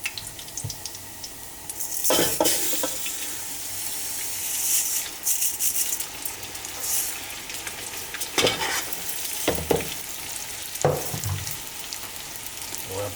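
Beef tehari rice and onions stirred in a hot pot, a continuous loud frying sizzle with repeated scraping and knocking bursts from the stirring spoon.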